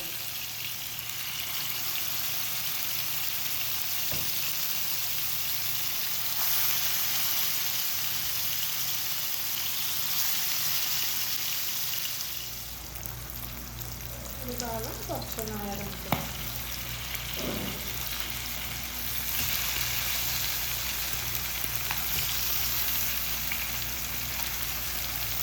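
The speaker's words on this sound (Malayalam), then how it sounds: "മസാല തേച്ച് വെച്ചിട്ടുള്ള മീൻ ഓരോ കഷ്ണങ്ങളായിട്ട് ഇട്ട് കൊടുത്ത് ഫ്രൈ" Masala-coated fish pieces fry in hot oil in a pan, a steady close sizzle with a low hum that deepens midway, with a few clinks and scrapes as pieces go in.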